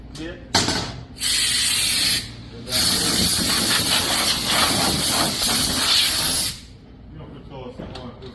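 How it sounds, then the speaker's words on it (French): Compressed air blows into the holes of a blade holder on a Paloni machine, giving a short burst and then two long, loud, close hissing blasts, with a voice speaking around them. "on va souffler bien à l'intérieur des trous ici"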